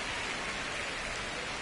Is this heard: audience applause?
no